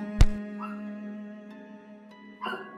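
A dog in a game scene gives one sharp, loud bark near the start, then a quieter yelp later, over a steady tonal game hum.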